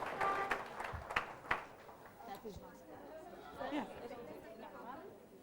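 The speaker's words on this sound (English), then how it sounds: "Clap for Saadun." Classroom of children clapping for a classmate, brief ragged applause near the start blending into lively chatter and a teacher's voice.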